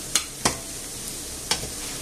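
Sausages fry in a pan, a soft low sizzle broken by three sharp clacks as they are moved about, fairly quiet and without talk.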